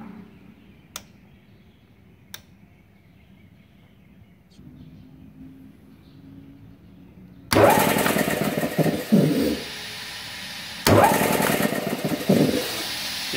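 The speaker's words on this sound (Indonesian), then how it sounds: "Oke, kita coba pasang di kompresor ya. Oke, setelah kita perbaiki ya kontaktornya, kita coba nyalakan ini." Three-phase compressor starting after its contactor is repaired: a few faint clicks first, then a loud sudden start into a steady running hum that briefly cuts out and restarts.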